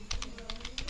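Quick keystrokes on a computer keyboard, about six light clicky taps in a second, close and fairly quiet, typing a ping command at a PC.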